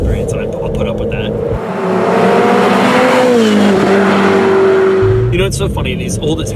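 A Ferrari 488 Spider engine swells into a rising, revving drone that climbs in pitch through the middle, with people talking before and after it.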